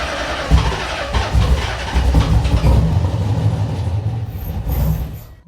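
A Nissan Z car with newly redone wiring cranks and fires up, its engine settling into a loud, steady rumble close by with no talk over it.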